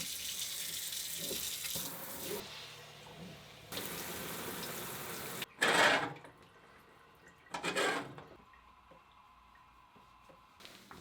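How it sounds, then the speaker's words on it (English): Water splashing and running from a tap onto Altra Superior 4.5 trail running shoes being rinsed, steady flow broken by two louder gushing bursts near the end. "when I wash them off, the water just runs straight out of the bottom of the shoe"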